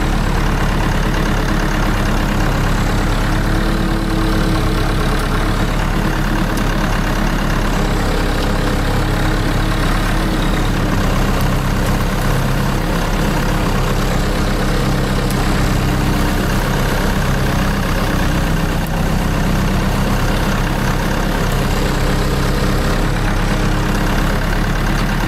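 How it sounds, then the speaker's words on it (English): A farm tractor engine runs steadily throughout while driving into a forest for brush cutting, its low, continuous rumble close and loud with no talking over it. "Also trying to not get stuck with the tractor."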